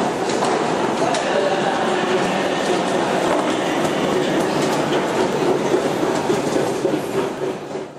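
A Budapest M4 metro train runs with a steady, loud rumble and wheel noise on the rails, holding constant for the whole stretch before easing slightly at the end.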